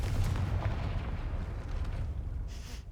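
A Confringo spell explodes in Hogwarts Legacy, a deep rumbling boom that rolls on and slowly fades over a few seconds, with a brief crackle near the end and no speech.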